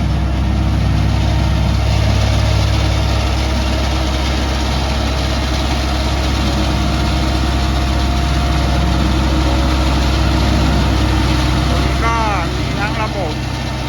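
A heavy diesel engine runs steadily at close range with a deep, constant low rumble and vibration, holding unchanged throughout.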